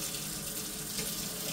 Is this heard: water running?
yes